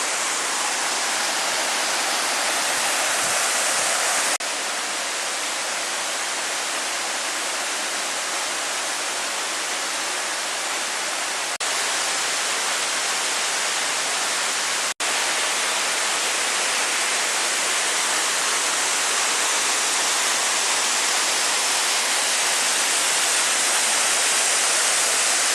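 A waterfall in a cave and karst area, roaring as a loud, continuous broadband rush that holds steady for the whole stretch with no other sounds.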